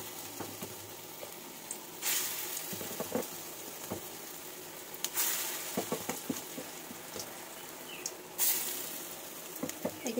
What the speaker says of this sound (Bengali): এগুলো আমি আস্তে আস্তে করে ভেজে নিই।